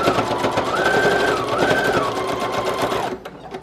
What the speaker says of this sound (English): I have my sewing machine set to a zigzag stitch there